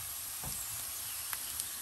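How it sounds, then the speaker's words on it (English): Quiet, steady sizzling of onion frying in olive oil in a pan, a soft continuous hiss with a few faint pops. "Then we're gonna start by frying the onion a little bit."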